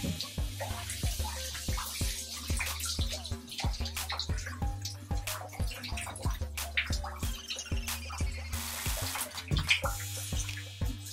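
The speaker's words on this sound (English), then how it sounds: "Let me wash this off." Water runs and splashes steadily in a bathtub as hair is rinsed under it, a continuous close rush broken by dripping and sloshing.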